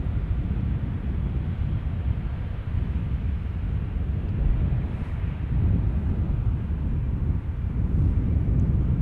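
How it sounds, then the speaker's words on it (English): An airliner lands at Amsterdam Schiphol Airport with its thrust reversers engaged, producing a loud, steady low roar that rises and falls slightly and stays broad and rumbling throughout, with no voices present. "Last minute reverser action there."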